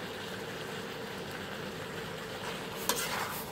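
Holy basil leaves and chicken giblets being stir-fried in a pan, giving a soft continuous sizzle with stirring noise and one brief louder scrape near the end.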